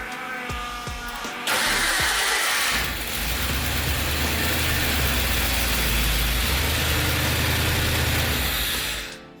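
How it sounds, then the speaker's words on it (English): A 1988 Ford Bronco truck engine cranks briefly with a few starter clicks, catches and fires up, then settles into a loud, steady idle close by with a slight rise in revs partway through. "It sounded like a normal truck start"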